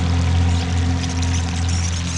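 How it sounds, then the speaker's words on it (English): An automatic irrigation line waters crops fed from rain barrels, giving a steady rushing spray of water over a constant low hum, close and unbroken. "Automatic crop watering."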